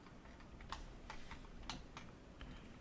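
A computer mouse clicks in a quiet room: several sharp, faint clicks spaced irregularly, each one brief and alone, with no talking.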